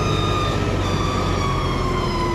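A New Holland T580B tractor in third gear brakes on the road, its loud, steady diesel drone filling the cab as the engine note sinks slightly in pitch while it slows, with no talk.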